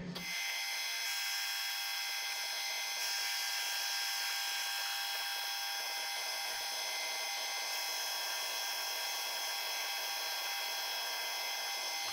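A warmed-up metal lathe runs on its own before cutting a taper, a steady, even mechanical whine and hum that holds unchanged throughout.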